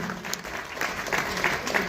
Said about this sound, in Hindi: आप सभी की तालियां आदरणीय